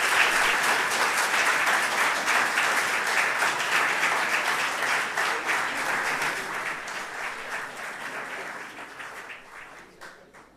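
A research conference audience applauds after a poster presentation talk, dense sustained clapping from many hands that holds strong and then gradually thins and fades toward the end.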